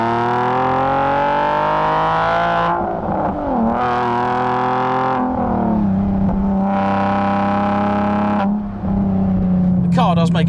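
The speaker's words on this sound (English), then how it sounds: "Car does make a glorious sound" A Nissan 370Z Nismo engine revs hard through the gears, rising in pitch with each pull and dropping at shifts, a deep throaty exhaust roar close up.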